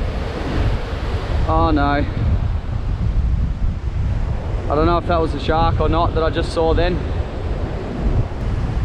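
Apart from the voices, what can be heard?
ocean waves at the foot of cliffs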